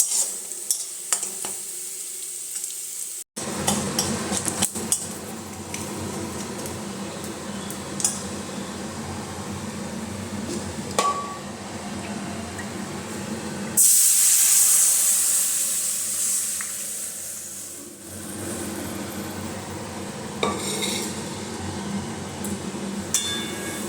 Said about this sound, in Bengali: এখন আমি ডালটাকে ছোক দেবো